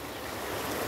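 Rushing floodwater of the swollen Pinhacó River in Conceição, Paraíba, seen from behind a church during one of the year's biggest floods: a steady, dense, broadband roar filling the whole moment, close and continuous with no voices.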